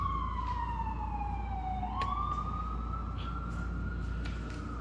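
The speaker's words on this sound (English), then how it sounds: "I'll wait for the siren to go by and collect my thoughts here." An emergency vehicle siren wails as it passes, its pitch sliding down and then rising again in one steady sweep, heard at a moderate distance over low traffic rumble with no talking.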